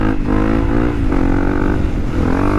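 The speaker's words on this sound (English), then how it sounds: "Why don't we bust a wheelie really quick?" Honda CRF250L motorcycle engine revving up for a wheelie, a loud, close, continuous rising drone with a brief dip and climb again over a few seconds.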